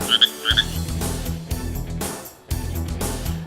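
An endangered frog croaks in repeated loud, close bursts, a pulsing call broken by short pauses, with a few high chirps at the start.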